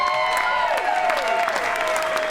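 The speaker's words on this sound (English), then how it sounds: "Let me go ahead with your applause" Wedding guests clap for the best man at a reception, a brisk burst of applause with a few cheers, while a tonal hum or music runs faintly beneath.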